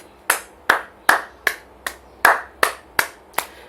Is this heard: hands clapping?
yes